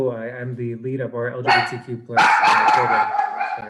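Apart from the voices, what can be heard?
dog barking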